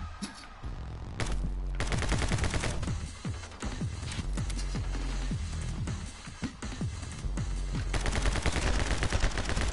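Repeated gunfire from a newly acquired weapon in a banana video game, bursts of sharp shots in quick succession, loud and continuous across the stretch with brief gaps.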